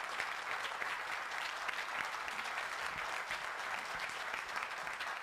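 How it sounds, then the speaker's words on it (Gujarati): Sustained applause from an audience in Ahmedabad for Dr. Nimit Oza after a Gujarati motivational talk on creativity, dense steady clapping filling the room throughout with no pause. "એક વખત ડોક્ટર નિમિત માટે અનહદ ને પુષ્કળ તાળીઓ"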